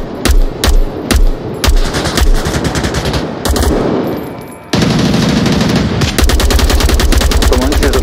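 Automatic gunfire in the VR shooter Onward rattles out in rapid bursts, first in short choppy volleys, then as a dense sustained stream of shots, loud and close.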